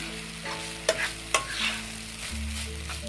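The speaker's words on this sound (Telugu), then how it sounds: "హై ఫ్లేమ్లో పెట్టుకొని మీరు బాగా కలుపుకుంటూ ఉంటే పొడి పొడిగా వచ్చింది" Veg fried rice seared and tossed in a pan over a high flame, a constant close sizzle broken by a couple of sharp scraping knocks from the stirring, with no voices.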